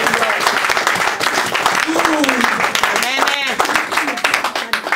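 A church congregation applauding, scattered loud clapping mixed with shouting and cheering voices.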